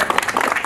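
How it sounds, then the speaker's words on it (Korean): A brief burst of applause at a signboard unveiling ceremony, rapid close clapping from a small group. "박수."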